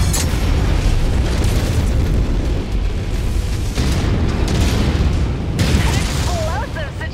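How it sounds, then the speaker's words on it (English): Ammunition cooking off in an arena battle in the Mechwarrior 5 game, a dense stretch of booming blasts and bursts rolling over each other without pause, loud throughout with a short zapping sweep near the end. "Ammo cooks off. There's chaos in the arena."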